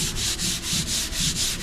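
A hand rubs back and forth over rough, clay-barred car paintwork after a decontamination wash, giving a close, steady series of dry, scratchy sanding-like strokes in an even rhythm with no voices.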